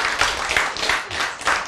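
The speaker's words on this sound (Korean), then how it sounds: "여기 왔을 때, 박수!" Brief burst of applause from an audience at a Korean lecture, a short run of close, dense clapping in rolling waves.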